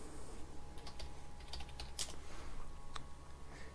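Quiet typing on a computer keyboard, a sparse run of light clicking keystrokes over a low steady background hum.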